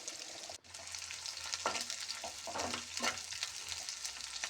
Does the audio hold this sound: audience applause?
no